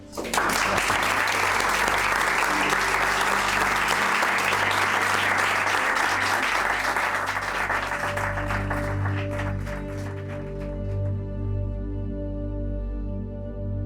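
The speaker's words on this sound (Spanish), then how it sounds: "si os parece le damos un aplauso" At a book presentation on meditation, an audience breaks into loud, dense applause that runs steadily for several seconds, then thins out as music with sustained low tones rises and takes over.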